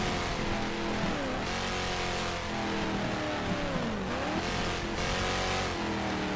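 Porsche race car in the GTR2 racing game at Riverside, its engine loud and continuous with harmonic revs rising and dropping through gear changes and corners, plus hints of tire noise and no voices.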